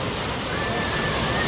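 Steady rain pouring down outdoors during flooding, a dense, loud, even hiss of falling water with no pauses, heard close and alone.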